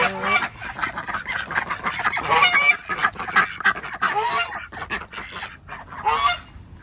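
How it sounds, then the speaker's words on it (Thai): Loud honking duck calls repeat in a noisy, overlapping chorus at a mini zoo farm, nasal quacks and honks close by with little pause between them. "อันนี้เป็ดนะครับ"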